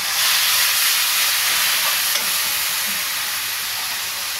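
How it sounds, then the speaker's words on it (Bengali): Tomato paste sizzles in a pan of frying onions and spices for a rui fish kaliya, a steady, bright hiss with small spatters and a faint scrape of stirring, close and without voices. "এবার আমি দেবো টমেটোর পেস্ট"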